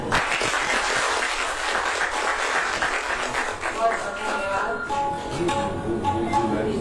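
Audience applause at a Hindi song recital of monsoon (Sawan) songs at a language council event, a steady wash of clapping that gradually thins out, with a voice over it.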